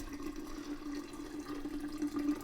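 Warm water pours steadily into a container of sugar for homemade ginger beer, a continuous close splashing fill with a constant watery rush lasting the whole stretch and no talking.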